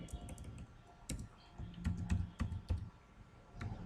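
Rapid clicking of computer keyboard keys, a few quick bursts of close typing with short pauses between them, no voice.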